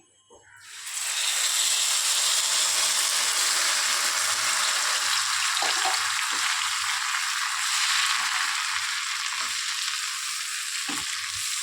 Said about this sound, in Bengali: এখানে পেস্ট করে রাখা টমেটো, কাঁচা লঙ্কা এটা দিয়ে দিচ্ছি।